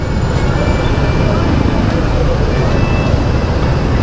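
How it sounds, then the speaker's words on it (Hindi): City road traffic in Aizawl, Mizoram, a loud, constant rumble and hiss of passing cars, buses and motorbikes with no horns, heard close to the roadside. "सिर्फ गाड़ी का आवाज़ होता है ना, हॉर्न से बिना चलता है"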